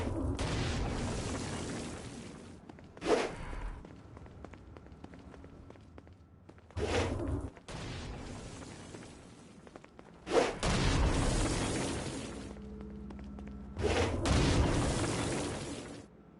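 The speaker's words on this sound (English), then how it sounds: "Stone Blast is especially useful on flying demons like this one." Stone Blast explosions in Saints Row: Gat out of Hell go off against flying demons, several loud booming bursts at intervals over a steady backdrop of game noise, with no one talking.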